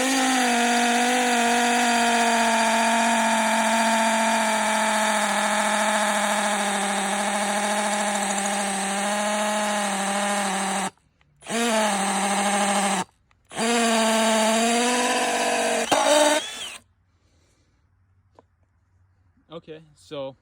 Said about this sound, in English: Now we're going to be using a 3/4 inch hole saw.